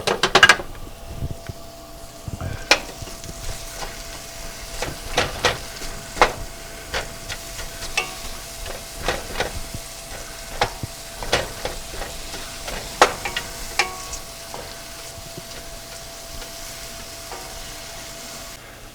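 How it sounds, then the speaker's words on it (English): Shallots sautéing in a pan for Mexican ranch-style shrimp, a soft steady sizzle with scattered stirring clicks and scrapes of a utensil against the pan, fairly close and without talk. "now we're going to saute some shallots"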